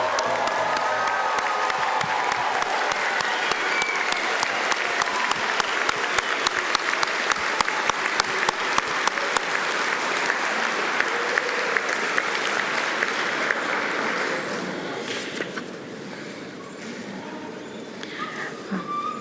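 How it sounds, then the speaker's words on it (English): A large graduation crowd at a college ceremony gives long, dense applause with scattered cheers and whoops, holding steady before thinning out and fading toward the end. "round of applause for all our graduates,"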